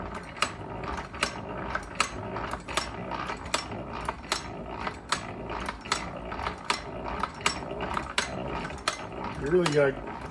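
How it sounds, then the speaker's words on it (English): The engine of a 1927 Ford TT is hand-cranked, giving a quick, regular series of sharp ratcheting clicks close by, with a louder mechanical rattle near the end. "You really gotta get cranking on this thing to get it going."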